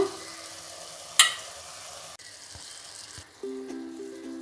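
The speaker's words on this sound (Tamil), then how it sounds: "இப்போ கொஞ்சமாக இது வதங்கிறதுக்கு உப்பு சேர்த்துக்கலாம் இப்போ நல்லா வேகட்டும்" Ingredients for paneer butter masala sauté in a pan, giving a steady close sizzle and hiss with a sharp clack of a utensil early on and stirring scrapes throughout.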